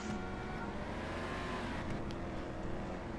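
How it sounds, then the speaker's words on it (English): Several race car engines in GTA 5 at Silverstone, heard zoomed in from a distance as a dense, steady roar and whine of mixed engine tones running the whole time, with no breaks. "Can hear some engines here, zoomed in."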